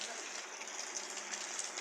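Heavy rain in a steady, dense hiss, a continuous wash of drops on surfaces with no pauses, fairly faint and distant across the short stretch, with no voices.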